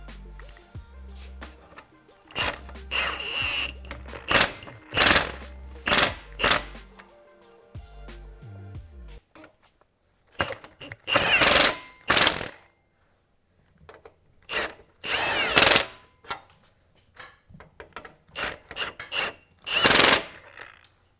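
A power tool tightens the exhaust clamps on a 2021-2022 Corvette C8 6.2L cat-back exhaust, with short loud bursts of whirring and ratcheting that stop and start, separated by quiet gaps.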